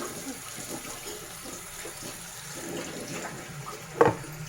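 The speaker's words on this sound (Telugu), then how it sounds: "వాటర్ అయితే మసాలా కడిగిన నీళ్ళు మాత్రమే వేస్తున్నానండి." Water used to rinse spices pours quietly and steadily into a pot of cooking prawn curry, a soft continuous trickle ending with a brief splashy swell.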